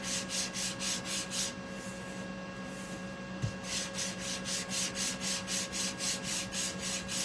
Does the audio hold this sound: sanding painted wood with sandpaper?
yes